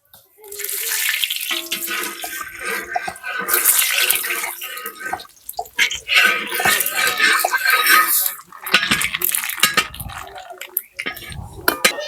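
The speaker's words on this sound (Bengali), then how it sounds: "তেল গরম হয়ে গেছে, ফোড়নে দিচ্ছি তেজপাতা, শুকনো লঙ্কা আর কালো সর্ষে।" Bay leaf, dried red chilli and black mustard seeds hit hot oil for tempering dal, giving a loud, close, broadband sizzle and crackle. Occasional clinks punctuate it, with a few brief pauses.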